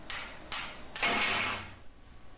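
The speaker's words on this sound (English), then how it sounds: "Use an old socket and drive the sun gear away from the Sprag assembly." An old socket being hammered to drive a sun gear off a 4L60E sprag assembly: three sharp metallic strikes, the last ringing longer, close up.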